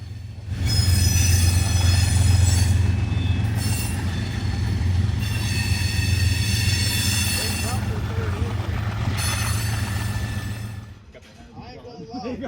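A CSX freight train rolls past close by at Muncie, its wheels squealing in a loud sustained high whine over the heavy rumble of railcars, fading near the end.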